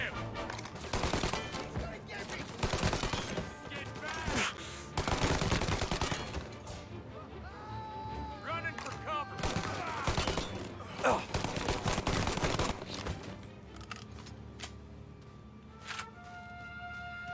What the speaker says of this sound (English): Lining up a shot.